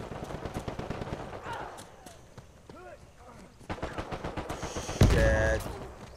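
Machine gun fire in an Uncharted 4 multiplayer match on PS4 comes as rapid, evenly spaced bursts of shots. Game effects and a voice are mixed in, and a louder blast lands near the end.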